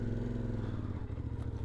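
A CFMOTO Ibex 450 motorcycle engine idles and putters at very low speed while riding up a dirt trail, a steady close low throbbing with light clatter as the rhythm shifts partway through.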